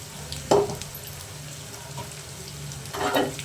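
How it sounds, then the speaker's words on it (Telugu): Eggplant pieces frying in oil for a spiced curry, a soft continuous sizzle with a couple of brief louder crackles as the pieces are stirred or turned in the pan. "ఆయిల్లో మంచిగా ఉడుకుతున్నాయి చూడండి."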